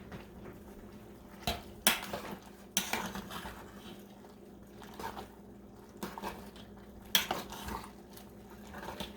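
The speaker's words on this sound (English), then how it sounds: "Just sort of fry it till it gets a little brown" Manicotti filling fries in a pan over medium heat, a faint steady sizzle under repeated clinks and scrapes of a utensil against the pan, spaced irregularly.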